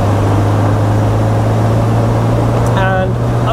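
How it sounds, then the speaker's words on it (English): A small, slow car's engine hums steadily while driving through a winding dip on a road, a constant low drone with wind rush, loud and close throughout. "Hopefully you're getting a little bit of the engine noise."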